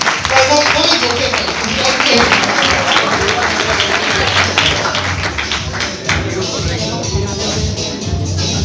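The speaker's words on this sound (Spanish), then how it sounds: "Un fuerte aplauso para Diego" Loud, dense applause from a seminar audience, sustained clapping that fills the room with some voices mixed in.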